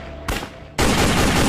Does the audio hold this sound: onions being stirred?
no